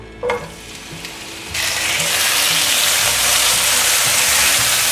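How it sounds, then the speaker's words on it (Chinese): Tomatoes and carrots hit hot sesame oil in a wok, bursting into a loud, steady sizzle after a brief clatter, then holding a dense, continuous frying hiss close up. "油热了，现在放入番茄和红萝卜"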